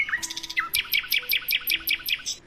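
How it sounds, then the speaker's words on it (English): Morning birdsong: a rapid series of bright, high chirps in a steady repeating rhythm, clear and fairly close over a quiet low background hum. "So, you know how like when you wake up, you're supposed to wake up to birds chirping, right?"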